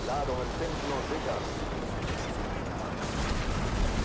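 Gunfire in the video game Modern Warfare 3, a dense, continuous barrage of shots and blasts that stays loud throughout under a busy mix, with people talking over it.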